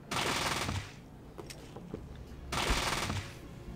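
Bursts of automatic gunfire in the Fallout 2 video game, one long volley at the start and another after a short lull, loud and close, with scattered quieter shots between.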